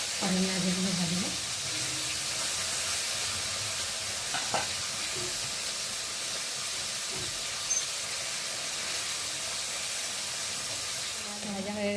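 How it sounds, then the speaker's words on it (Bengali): Fish heads and onions fry in oil, giving a continuous close sizzle and hiss with a few brief clicks of stirring, and a voice speaks faintly over it near the start and end. "পেঁয়াজা আর মাথাগুলো আগে ভেজে নিই"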